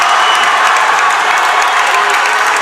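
A basketball crowd at a high school boys' varsity quarterfinal game, Portland High against Deering, applauds and cheers steadily in a dense, loud wash of clapping, with no break throughout.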